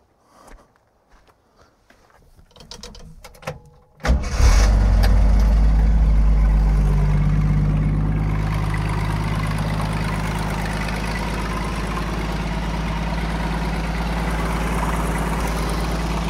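A Jeep engine cranks and catches around four seconds in, then settles into a steady, loud low idle that runs alone to the end, after a few quiet shuffling footsteps and clicks.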